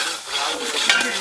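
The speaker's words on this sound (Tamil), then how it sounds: "இப்போ நம்ம இஞ்சி பேஸ்ட் போடுறோம், பூண்டு பேஸ்ட் போடுறோம்." Ginger and garlic paste sizzles in a hot pan outdoors while a utensil stirs and scrapes through it, a steady close frying hiss with a brief clatter near the end.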